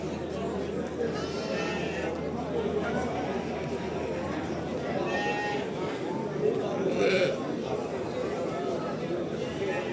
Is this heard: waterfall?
no